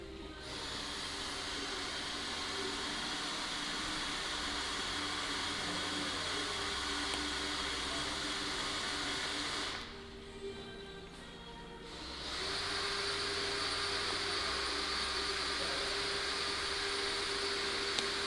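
A heat gun blows steadily while warming TeckWrap Hunter Green vinyl wrap on a Lexus RC F front bumper, a close, continuous hiss that briefly dips and softens mid-way before resuming at full strength.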